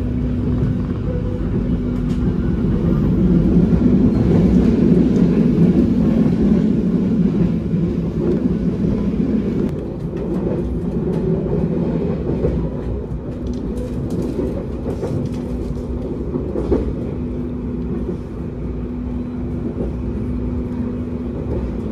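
The KA Harina passenger train rolls across the Cisomang bridge, a continuous rumbling drone with a steady low hum, louder early then easing into an even, dull roll with a few soft knocks.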